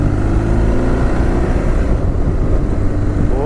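2005 BMW R1200GS motorcycle with K2X exhausts engine braking, a loud, rough burbling drone with steady low pulses as revs ease off, close and continuous.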